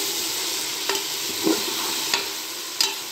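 Turmeric and a spice mixture are being stirred in a pan over a soft, steady sizzle, with a few distinct scrape-and-knock strokes of a spoon against the pan spaced roughly every half second to second.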